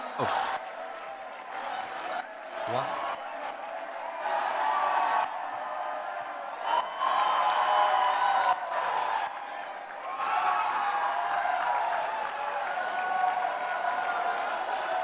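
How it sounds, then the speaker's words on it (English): A crowd at a seminar cheers and shouts together in a sustained, swelling roar of mixed voices and applause that rises and dips in waves, with some calling out mixed in. "Cheer them on."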